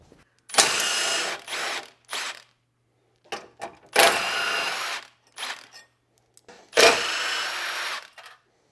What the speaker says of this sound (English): So we're going to get these 4 bolts out